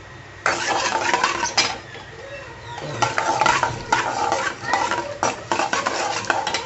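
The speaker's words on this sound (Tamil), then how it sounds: "கடுகு நல்லா பொரிஞ்சு வரட்டும்" Mustard seeds with chana dal and urad dal spluttering in hot oil, a crackling sizzle with irregular bursts of popping and some scraping of a spoon against the pan.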